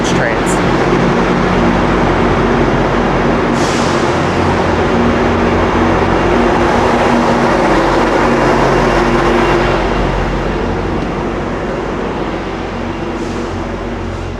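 A double-decker GO train riding from Toronto Union Station toward Port Credit produces a steady, loud cabin rumble and hiss throughout, with a few faint squeals and a slight fade near the end.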